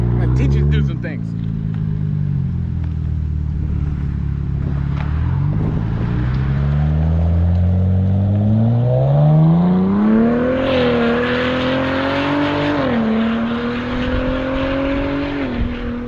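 Cadillac ATS-V twin-turbo V6 with a muffler delete accelerating hard, the exhaust note climbing steadily through the revs with a brief dip before rising again, loud and close, people talking over it.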